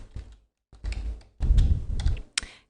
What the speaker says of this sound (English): you can also hit the Enter key on your keyboard